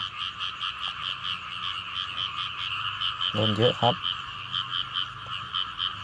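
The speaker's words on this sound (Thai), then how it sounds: "นี่ตรงนี้มีกบครับ" A dense night chorus of frogs croaks in fast, pulsing rhythm throughout, loud and continuous, with a short burst of a man's speech in the middle.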